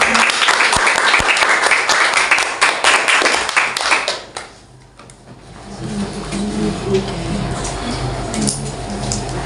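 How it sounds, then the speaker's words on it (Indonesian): Audience applause at a school student council president and vice president debate at SMPN 1 Jayapura, a dense burst of clapping for about four seconds that then fades into quieter room noise and murmur. "Mari tepuk tangan buat luar biasa"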